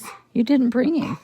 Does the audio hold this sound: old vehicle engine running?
no